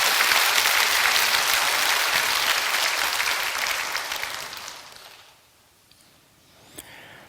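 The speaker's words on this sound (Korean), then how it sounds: "세례 받으신 분은 큰 박수 합시다." A Korean church congregation applauds in a big, dense burst of clapping that fades away after a few seconds.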